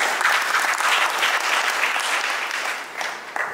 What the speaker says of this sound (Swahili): Tujipigieni makofi.